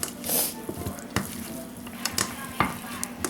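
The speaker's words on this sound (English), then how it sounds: "Now you're going to take them and kind of mix all that together, just like that." Turkey wings are tossed and mixed in flour, giving soft rustling and scraping with scattered sharper taps and knocks against the container, moderately close and without talk.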